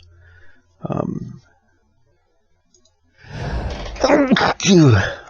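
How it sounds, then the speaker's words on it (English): A person with a cold sneezes once, a short sharp burst near the start, followed by a pause and then close spoken talk. "I have a little bit of a cold, so I apologize if I sneeze."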